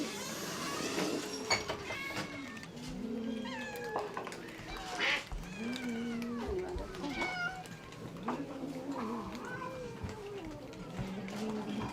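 Many cats meow and caterwaul at a four-bedroom home turned refuge for some 600 cats, with overlapping cries at close range, some sharp and some drawn out.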